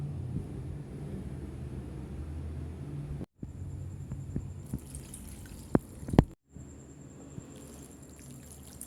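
Water trickles and drips into a cooking pot while kakanin is being made, a faint, steady pouring with a few brief louder splashes and short pauses.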